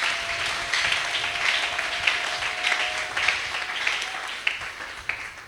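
A church congregation applauds during a Sunday service, steady dense clapping from many hands filling the room throughout, loud and sustained, with a faint tone lingering underneath.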